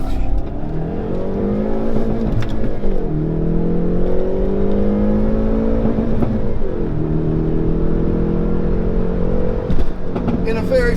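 The 2019 Hyundai Veloster N, a 275 hp hot hatch, accelerates hard, its engine note climbing steadily through three pulls with two gear changes between them, loud and close with a voice speaking over it.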